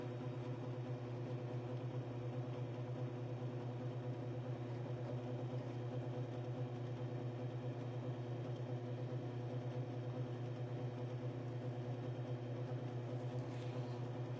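A Power Up NNL 690 Timken bearing test machine, lubricated with Mobile 1 synthetic oil, runs with a steady, even mechanical hum and drone that holds unchanged for the whole stretch, close and moderately quiet, with no talking.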